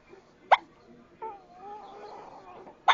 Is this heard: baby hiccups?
yes